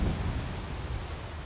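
Thunder from a thunderstorm rolls as a low, continuous rumble mixed with a broad rain-like hiss, steady and fairly loud for a short stretch.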